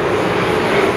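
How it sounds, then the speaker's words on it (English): A jet plane flying overhead makes a loud, steady roar that fills the whole moment, with no voices over it. "Stand by, jet plane."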